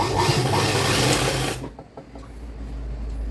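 A sewing machine runs steadily, stitching the lining of a child's skirt made from saree fabric, then stops abruptly partway through, leaving faint handling noises and a low hum.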